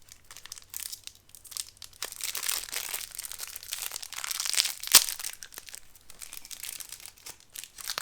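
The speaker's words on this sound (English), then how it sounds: "Then it's inside another little plastic packaging. This looks a bit awkward to open." Crinkly plastic packaging from a parcel holding a vintage Seiko watch is handled and pulled open at close range, giving a continuous rustling crackle with one sharp snap near the middle.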